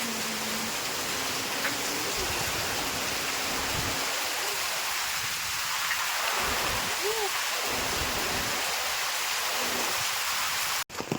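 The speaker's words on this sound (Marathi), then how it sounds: "कसलो पाऊस इलो हो बघा" Heavy monsoon rain pours down on cashew trees in a steady, dense hiss that fills the whole scene, loud and continuous from start to finish.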